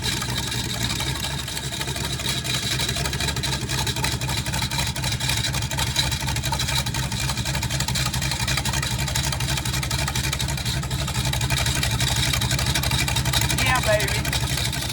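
A Ford 289 V8 bored .30 over, fitted with a roller cam and new lifters, runs at a steady loud idle throughout, with a person talking over the engine.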